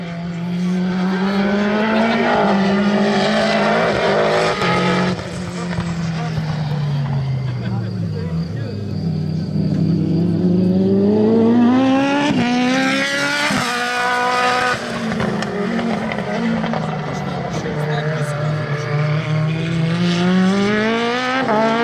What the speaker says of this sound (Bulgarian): И в първата обиколка на дългата права Васко Въжаров изпреварва Румен Киров